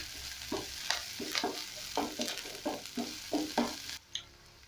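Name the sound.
ginger garlic paste and coriander stems frying for goat curry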